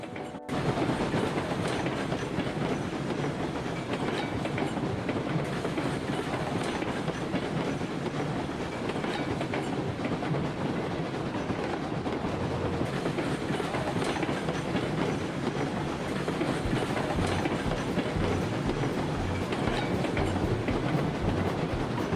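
Heavy freight train hauling 69 loaded cars in the Railroads Online game, a continuous loud rumble of rolling wheels with rhythmic clickety-clack over the rails, no talk.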